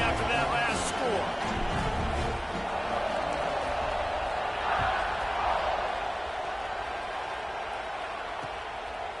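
Football stadium crowd at a Bama vs Georgia game buzzing before a kickoff, a broad, steady roar of many voices from far off, under close play-by-play commentary.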